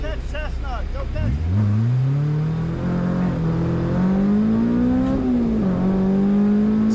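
A Honda S2000 race car in CSP class trim on a fast autocross lap, its engine revving hard and climbing through the gears with a steady rising whine, loud and close throughout, with a voice briefly heard at the start.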